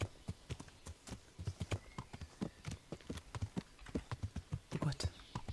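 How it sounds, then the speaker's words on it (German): A horse's hooves clip-clop steadily over a wooden bridge in Kingdom Come Deliverance, a quick, even rhythm of sharp knocks close by, with quiet talk underneath. "Ich muss über eine Brücke reiten."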